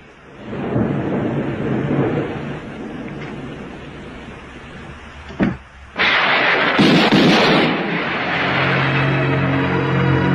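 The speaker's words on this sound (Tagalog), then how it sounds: "Masyado malakas ang ulan eh." Heavy rain pours steadily throughout, with a loud thunder crack near the middle followed by a sharp, louder burst of downpour or rumbling thunder that continues to the end.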